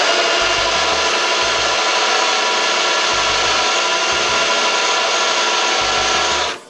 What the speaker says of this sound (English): I'm drilling fast, but none of the chips are blue.